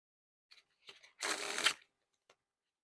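ArrowDynamix v3 Chinatown playing cards fanned out in one close, dry sweep lasting about half a second, preceded by a few soft card taps and followed by a faint click in an otherwise quiet room.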